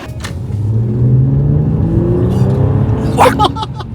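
A Nissan Skyline V35's naturally aspirated V6 with a tuned Fujitsubo exhaust revs up with a rising, throaty note, holding high before easing off; a voice briefly cuts in near the end.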